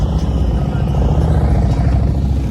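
A vehicle engine rumbles nearby with a low, steady drone and some clatter, as a car rolls slowly into an Arizona car meet.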